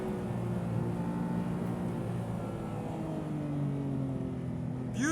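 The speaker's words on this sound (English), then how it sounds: "Beautiful throttle response. Love that heel toe rev match." A Porsche 911 991.2 GT3 with a six-speed manual and sport exhaust hums steadily under way on a track, its engine note slowly falling, then a sharp throttle blip rises at the very end.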